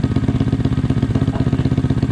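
Honda Grom motorcycle engine idling on a stand after ECU tuning, a close, loud, rhythmic clattering putter with even pulses throughout and no talk.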